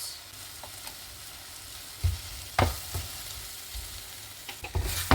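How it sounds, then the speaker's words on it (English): Okra curry being stirred in a pot: soft scraping strokes of a spoon against the pot over a steady low sizzle, with a few louder clanks near the end. "Let's stir the pot once more."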